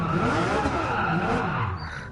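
Tires skid in Gran Turismo 7 as a car attempts donuts, a loud, dense, continuous scrubbing squeal with engine noise beneath that tapers slightly at the end.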